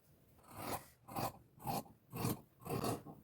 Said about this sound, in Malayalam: ഇനി ഇതൊന്ന് കട്ട് ചെയ്ത് മാറ്റാം